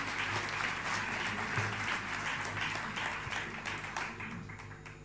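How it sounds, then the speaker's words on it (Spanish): An audience at an international seminar on early childhood and early care applauds the speakers, a sustained, dense wash of clapping that holds steady for several seconds before thinning slightly toward the end. "les damos un fuerte aplauso antes de comenzar con el primer coloquio"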